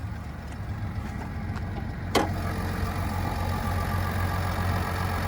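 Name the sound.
GMC Sierra 1500 3-liter Duramax diesel engine running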